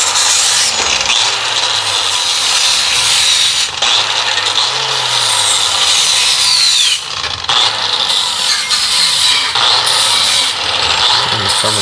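A flap disc on an angle grinder grinds a burr off a metal part of a Corvair oil cooler plate modification, a loud, continuous close-up whine with brief dips as the disc lifts off and bites again.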